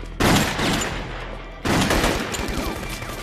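Gunfire in a warehouse shootout scene from a TV crime drama: two loud bursts of shots, each with a ringing, echoing decay in the large space, close and dominant.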